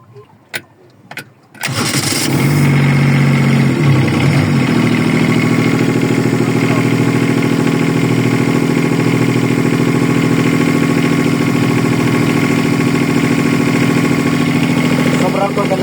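An engine with a faulty alternator cranks after a few clicks and catches, then settles into a loud, steady idle close by with a constant rumbling hum.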